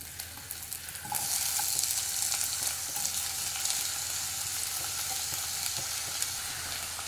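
Crushed shallots hit hot coconut oil for a Kerala-style ripe mango curry, a sharp close sizzle that jumps up after a quiet second and keeps crackling steadily with faint spatters.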